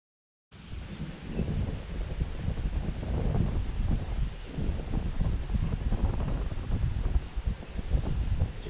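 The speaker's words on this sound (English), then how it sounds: "Like crazy windy out of nowhere." Strong gusty wind buffets the microphone outdoors beside water where a wild blue heron feeds, a steady loud roar with low rumbling surges that continues throughout with no talking.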